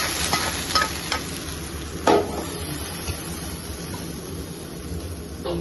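Curry leaves and spices fry in hot oil for a yogurt chutney, giving a steady crackling sizzle with a few sharp pops and scrapes of stirring over about six seconds.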